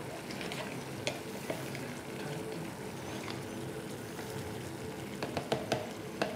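A fork mixes and breaks up couscous in a bowl, making quiet, continuous grainy scraping with occasional light clinks of metal against the bowl.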